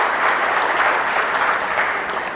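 Steady applause from an audience at a public event in Anguilla on violence against women and girls, a sustained dense patter of many hands clapping with no talk over it.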